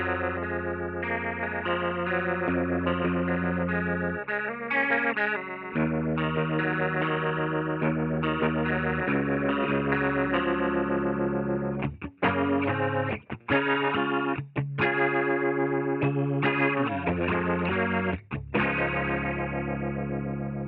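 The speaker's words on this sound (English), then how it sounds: "which means that you can achieve a lot of these modulation sounds with a minimum of latency." A Big Time delay pedal with short modulation presets colours a sustained electric guitar, producing shimmering chorus-like, slightly distorted layered tones with a few brief drop-outs, heard alone without talk.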